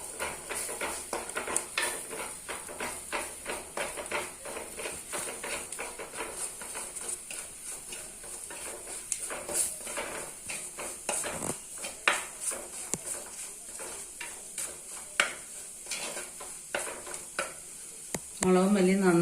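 Chili powder and coriander powder roast in a pan for a tuna fish curry, a low continuous sizzle under a busy rhythm of spoon scrapes and taps against the metal, fairly quiet and close.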